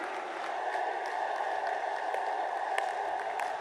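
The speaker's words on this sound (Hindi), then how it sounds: "खड़े होकर अपने स्थानों से तालियों के गड़गड़ाहट से जबरदस्त स्वागत करें मित्रों" A large rally crowd in Lucknow claps steadily in welcome for Narendra Modi, a continuous distant wash of applause with faint crowd noise, no clear voices.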